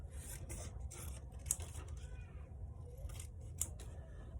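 Scissors snip through paper while a large open mouth shape is cut out for a line-monster craft, giving a series of quick, close, crisp cuts at an uneven rhythm.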